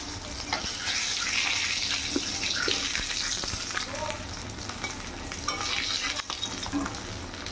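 Fish curry gravy poured over fried fish in a hot pan gives a steady, close sizzle with bubbling and stirring that lasts the whole stretch, with no voices.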